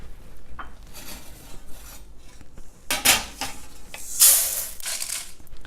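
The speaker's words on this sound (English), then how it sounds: "I'm going to transfer this into the plate to let it cool." Roasted lentils scraped from a hot kadai onto a plate, giving several scraping and rasping strokes of metal on metal with light clinks, fairly close and at moderate loudness, with a brighter stronger scrape near the end.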